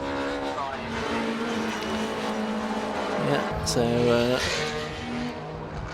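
Race cars on Croft Circuit during a club enduro championship sweep past, a steady loud engine roar with rising and falling pitch as cars pass and one swelling louder midway, under a commentator's voice.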